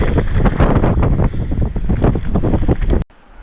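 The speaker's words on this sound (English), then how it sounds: "Super cold. Super windy. Super windy." Strong, cold gusts on a foggy White Cap Mountain summit in Maine's 100-Mile Wilderness buffet the microphone in loud, rumbling roars for about three seconds before cutting off abruptly into near quiet.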